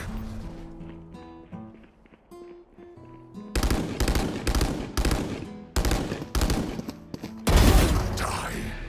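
Loud gunshots in a tactical shooter video game, close, bursting in quick clusters of cracks separated by brief pauses, following a quieter stretch of in-game announcer cues and music.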